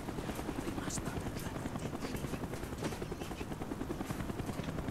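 A helicopter in the Black Ops 1 video game, a steady low rotor thump that fills the whole stretch at a constant level, with no clear gunfire standing out.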